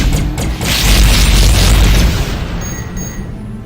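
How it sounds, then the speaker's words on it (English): A Hunter torpedo strikes a ship in the space combat game Tachyon: The Fringe, a loud, deep booming explosion that rumbles heavily and slowly fades, with a thin electronic tone lingering at the end. "that Hunter torpedo actually did score a hit"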